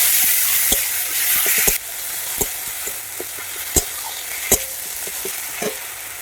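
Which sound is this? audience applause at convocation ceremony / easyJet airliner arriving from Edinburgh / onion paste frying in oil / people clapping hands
onion paste frying in oil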